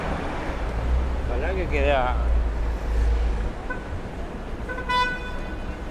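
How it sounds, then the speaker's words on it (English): Car horns honk amid rumbling Manhattan road traffic, with a short, clear toot standing out near the end over the engine noise. "Honk your horn."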